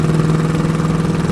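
A 1968 Chevrolet Chevelle convertible with a 283 V8 and Turbo 350 automatic cruises in high gear, giving a steady, loud engine drone with an even low hum and no talk over it.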